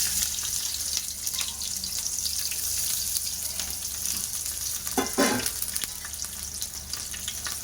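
Sliced onions and green chilies hit hot oil in a pan while cooking a mushroom curry, a steady close sizzle with a brief burst of clattering stirring midway.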